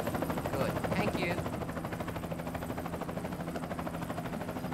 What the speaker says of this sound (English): If you look at the sound meter, the helicopter's making a lot of noise for us.